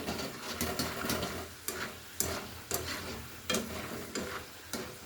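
Peanut pakodi bubbles in hot oil with a quiet, continuous crackling fry, broken at regular intervals by short scraping stirs or clinks, close by and with no voices.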